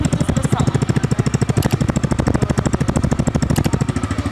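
TVS Raider 125 motorcycle engine running, heard through its exhaust silencer: a loud, close, steady rapid thumping pulse at an even idle rhythm that holds throughout, with no speech.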